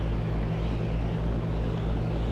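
Sailboat engine throttled up as the single-rudder boat pulls away from a side pier in a 13-knot crosswind, a loud, steady close drone with a regular low thumping pulse.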